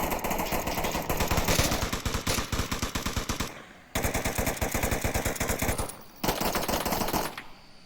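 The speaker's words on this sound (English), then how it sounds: "Lots of fire through the fence." Rapid automatic gunfire in the VR shooter Onward, fired through a fence during a tournament final match: loud, dense bursts of shots running for several seconds, broken by two short pauses.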